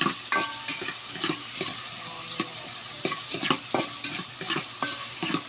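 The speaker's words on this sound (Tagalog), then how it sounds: "ginisa ko na yung bawang" Garlic sautés in a pan over a gas stove, crackling sizzle broken by frequent scraping and stirring knocks, close up and without speech.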